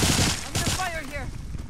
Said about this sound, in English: I'm gonna fire here.